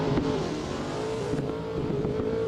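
RPS13 and C6 drift car engines rev at a drift competition, a steady droning engine note holding high revs with slight pitch wavering throughout, heard from a distance with no talking.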